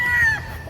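A single short, loud call from tethered chickens, close by, with a low background rumble underneath.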